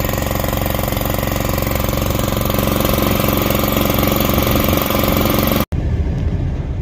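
Small Detroit engine running steadily at a loud, even, rattling idle close by, cut off abruptly for an instant near the end before the rough running sound resumes.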